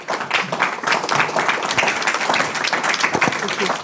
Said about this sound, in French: On peut faire une petite pause et quelques applaudissements